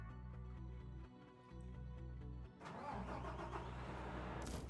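A game engine runs at a steady idle, then the articulated dump truck in Construction Simulator cranks and its diesel starts, swelling into a louder rumbling idle. It is close and clear, with no voices.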